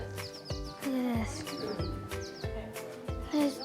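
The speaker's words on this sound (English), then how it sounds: "You can hear birds chirping" Birds chirp inside an old volcanic lava tube in Idaho with a hollow, echoing quality. Short bright calls repeat against a busy background of clatter and thumps.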